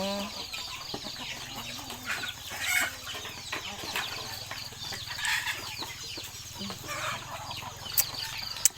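Chickens kept at a rural village home cluck and chatter continuously nearby, with scattered sharper squawks over busy outdoor background noise.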